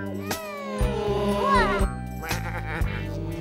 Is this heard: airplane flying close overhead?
no